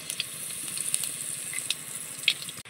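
Asafoetida and nigella seeds sizzling in hot oil, a high continuous hiss dotted with small pops and crackles, close and moderately loud, no talking.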